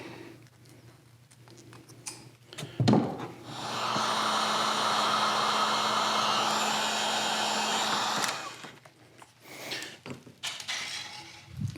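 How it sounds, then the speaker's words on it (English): A heat gun blows with a steady, loud airy roar for about four seconds, framed by quieter handling clunks and shuffling before and after, with no talking. "Set that hot heat gun away from my kayak so I don't melt a hole through the bottom of it."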